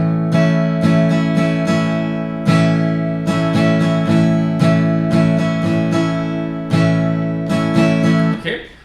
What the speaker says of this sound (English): And without the shuffle feel,